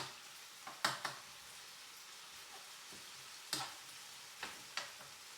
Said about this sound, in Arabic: الدجاج ديالنا راه تيتحمر، هذوك التقطيعات اللي درنا ديال الدجاج تيتحمر